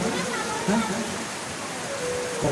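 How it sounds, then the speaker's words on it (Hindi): Steady rain pours outside an open-air Shiv Mahapuran religious discourse in Vishaniya, Madhya Pradesh, a continuous broadband hiss of falling water that holds level throughout with no speech over it. "ये पानी गिर रहा है"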